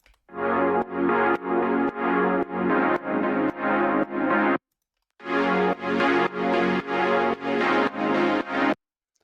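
A synth chord processed with a sidechain compressor, auto filter and chorus pulses in rhythmic pumping swells, two phrases split by a brief gap, each rising and ducking in a steady beat.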